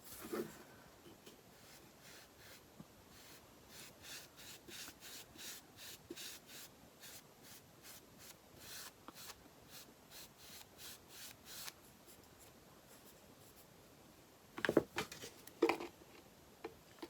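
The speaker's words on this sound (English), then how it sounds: "I'm just going to go over that with paint." Paint brushed over a primitive country craft piece with Waverly chalk-style paint, a soft repeated rubbing of bristles across the surface in steady strokes, quiet and close, with a few louder handling knocks near the end.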